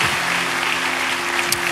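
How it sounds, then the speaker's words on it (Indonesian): A church congregation applauds during a Sunday service, a continuous wash of clapping with a steady low hum underneath. "Berikan tepuk tangan kita untuk Tuhan kita."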